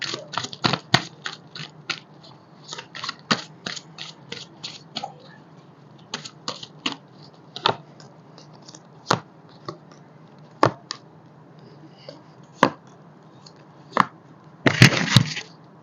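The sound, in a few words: tarot cards being shuffled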